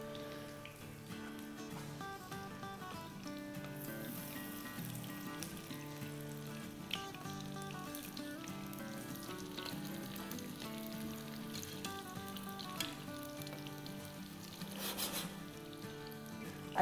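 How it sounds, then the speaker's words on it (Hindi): Shami kebabs fry in hot oil until golden brown, a soft, steady sizzle heard faintly beneath music that plays throughout. "अच्छे से गोल्डन ब्राउन कलर हो जब तक फ्राई करेंगे"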